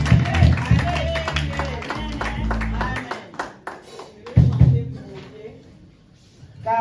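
A church congregation at a Sunday service claps and cheers in encouragement, with loud applause in two swells separated by a quieter gap, mixed with crowd voices.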